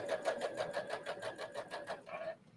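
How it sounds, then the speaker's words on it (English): Brother sewing machine stitching at medium speed, a steady rapid mechanical whirr with even needle pulses for about two seconds, then slowing and stopping. "So you can either set it on your dial or just sew at a medium speed."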